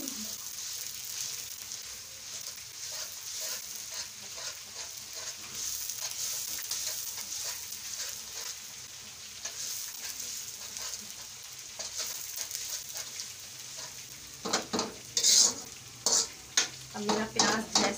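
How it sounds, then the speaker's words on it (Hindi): Chopped onions frying in hot oil until light golden make a steady, soft sizzle up close. Toward the end come louder bursts of stirring and scraping against the pan. "अब मैं ये चॉप किया हुआ प्याज डालूंगी इसमें, और इसको भी लाइट गोल्डन करूंगी इसके साथ ही।"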